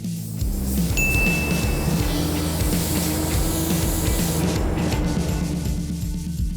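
Orange paint sprayed in a steady coat, a continuous hissing spray with a rhythmic mechanical pulsing underneath, close and even for several seconds.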